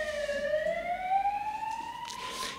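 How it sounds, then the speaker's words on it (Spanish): A wailing ambulance siren sweeps steadily upward in pitch as it passes nearby outside, loud and continuous with no talk over it. "vamos a dejar pasar la ambulancia."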